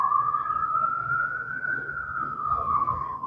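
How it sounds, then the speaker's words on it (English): Emergency sirens pass along a city street, one steady wailing tone rising and falling gently, loud and close throughout with no talk over it. "Hold on, wait for these sirens."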